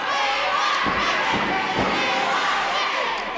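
A 1980 wrestling arena crowd roars and chants for Ricky, a dense, loud mass of voices with a few thuds from the ring underneath.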